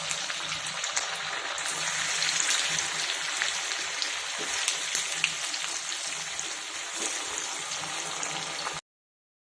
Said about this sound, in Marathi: हे इडली वडे आहेत ते आपण तळून घेऊयात